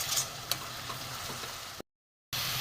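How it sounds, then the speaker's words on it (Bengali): Ground cumin, coriander, chili and turmeric with salt sizzle in a pan as the base for a Bhutnath fish curry, a steady close frying hiss that cuts to silence for a moment before resuming. "মশলাটা একটু ভালো করে কষিয়ে নিই"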